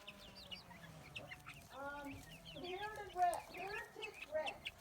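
Rhode Island Red chickens cluck and murmur in a backyard flock, with overlapping throaty calls and short squawks rising in the middle, while a person talks faintly nearby.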